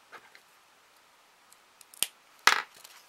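Scissors snipping the ends of decorative ribbon on a Christmas ornament craft, two crisp close cuts with small rustles in between, otherwise quiet.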